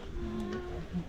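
Goats on a hillside near Little Adam's Peak in Ella, Sri Lanka, including a baby goat, giving a short low bleat followed by a brief higher cry, close by and fairly clear.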